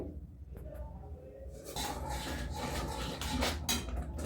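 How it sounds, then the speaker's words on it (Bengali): Slow, continuous scraping and rubbing of a spoon against a pot while milk is stirred for dudh basanti, a steady close texture that thickens partway through, with faint voice underneath. "এটা ধৈর্য করে, টাইম করে, ধীরে সুস্থে করতে হবে, অনবরত নাড়তে হবে"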